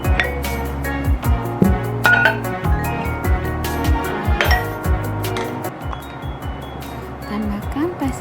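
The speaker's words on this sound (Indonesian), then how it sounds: "Aduk dengan baik." A dressing of honey, vinegar, olive oil and a little salt stirred in a bowl, with repeated light clinks and scraping of a utensil against the dish throughout, close and moderately loud.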